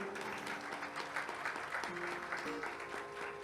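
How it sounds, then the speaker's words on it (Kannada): An audience claps steadily for a few seconds at a music performance, a dense patter of applause heard at moderate distance, with faint tonal sounds underneath. "ಒಂದು ಚಪ್ಪಾಳೆ"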